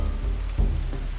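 Rain falls steadily in the medieval colony-building game Going Medieval, a constant low wash of patter with a few heavier thumps, with no talking over it.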